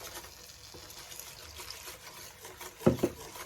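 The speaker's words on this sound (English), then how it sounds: "Just gonna add in a bit of water" Water trickles and pours in a low, steady stream into a pan of flour-thickened gravy, with a couple of brief louder splashes near the end.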